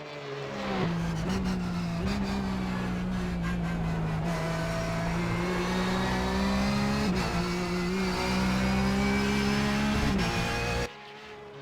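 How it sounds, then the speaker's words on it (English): A Porsche 911 GT3 Cup car engine in the iRacing game roars steadily at high revs at Bathurst, heard from outside the car, with sharp backfire pops at each gear shift, loud and close throughout. "You do get a little bit more of that backfire sound on the gear shifts as well from outside the car."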